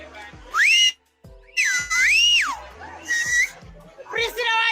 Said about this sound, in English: She just whistles and the governor reacted.